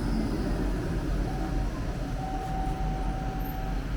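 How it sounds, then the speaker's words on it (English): A steady low rumble of a tram rolling along rails in Tampere, Finland, with a thin high squeal from the wheels rising partway through. "And now we take the tram back to the city center."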